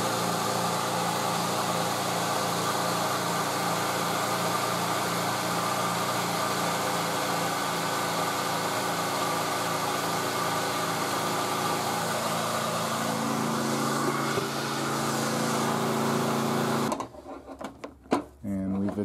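A Monte Carlo car engine running at idle after reassembly, a steady close rhythmic mechanical chatter and hum for most of the stretch before cutting off, with a voice talking over it.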